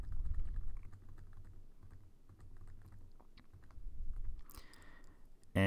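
Typing on a computer keyboard while entering answers into a Python driver's license exam program, with steady clustered key clicks and a brief louder burst near the end, no voices present.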